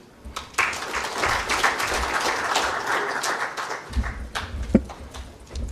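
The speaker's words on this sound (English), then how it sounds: "Maybe you can give him another round of applause." Audience applause at a political conference in Kenya, a dense spread of clapping that swells in after a quiet start and runs steadily, with a few sharper claps and knocks near the end.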